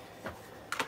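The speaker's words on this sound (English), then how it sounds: "So I use the arrow keys and the down and up for the pages on this to do the movements for Zed." Arrow keys tapped on the keyboard of a DIY CNC mill controller while milling aluminium parts: a few quiet, separate clicks over a low background hum.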